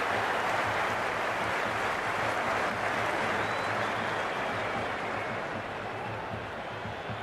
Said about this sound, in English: The crowd are on the edge of their seats.